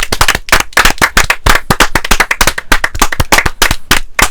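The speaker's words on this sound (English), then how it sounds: "One more round of applause." An audience at a live podcast taping out on a boulevard claps steadily and loudly, a dense run of close, sharp handclaps with no pause.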